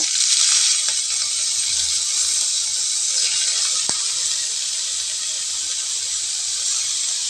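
Finely chopped onions fry in hot oil with a loud, dense, steady hiss and crackle close to the pan, continuing evenly with one brief sharp tap midway.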